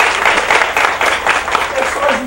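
An audience at a university lecture applauds, a dense steady patter of clapping from many hands that lasts about two seconds.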